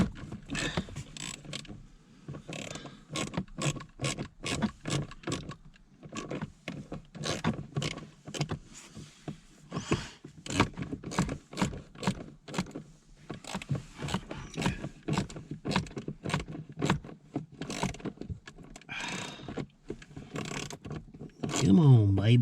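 Bolts on a 2006 Chevrolet Silverado blower motor being tightened with a ratchet, a long run of rapid clicking strokes in short bursts, fairly faint and close.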